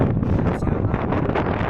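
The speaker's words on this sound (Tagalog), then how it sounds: "Lakas ng hangin." Strong wind gusting across an outdoor glass walk on a hillside, loud roaring buffets battering the microphone without a break.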